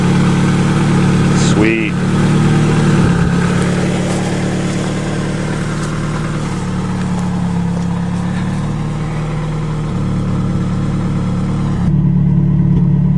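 A rebuilt Eagle Talon engine runs steadily at close range with a mid-pitched idle hum and a brief rev, while a person speaks briefly over it.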